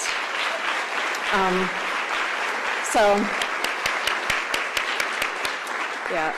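Steady applause from a crowd at an awards meeting, dense clapping throughout, with a few brief voices calling out over it.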